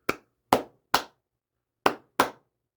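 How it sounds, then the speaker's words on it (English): Five sharp hand claps, three in quick succession then a pause before two more, crisp and isolated against silence. "you'll hear almost like clapping"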